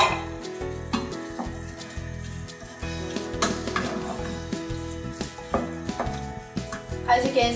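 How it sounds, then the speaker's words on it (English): Meat sizzling and frying in a pan for moussaka, with stirring clinks of utensils and pots throughout, steady and close, with brief voices faintly underneath. "It's been like a minute since we've added our meat here."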